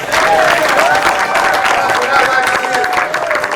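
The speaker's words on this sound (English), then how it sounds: "Clap it up now. Clap it up." An improv show audience claps and cheers loudly and continuously, with whoops rising over the dense applause.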